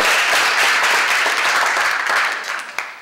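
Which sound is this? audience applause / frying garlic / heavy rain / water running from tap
audience applause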